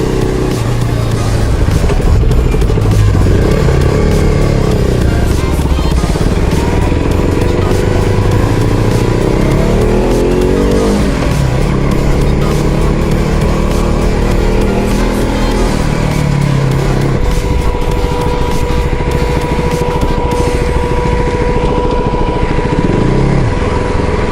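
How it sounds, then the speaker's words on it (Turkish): Loud, close KTM RC250 motorcycle engine rumbling and revving continuously, pitch rising and falling, with sharp popping crackles and backfires through the exhaust. "Motosiklet ateş ediyor derler ya."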